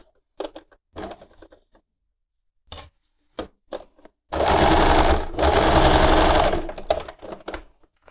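A sewing machine stitches a seam on an apron made from old denim jeans, with short bursts of stitching early on, then two long, loud continuous runs up close.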